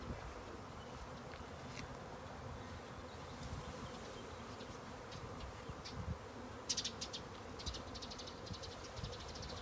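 A steady, dense drone of many honeybees buzzing close by as a new colony with a caged queen is put into a hive, continuous throughout, with occasional brighter buzzing passes rising above the hum.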